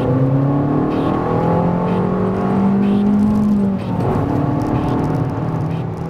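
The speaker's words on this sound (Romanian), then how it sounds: "Senzația de accelerare puternică e întărită de urletul animalic al evacuării la peste 4000 de rotații pe minut" An Abarth 500 with a 1.4 turbo engine accelerates hard, its exhaust giving a loud, rising growl from close by, then briefly dipping at a gear change before pulling strongly again.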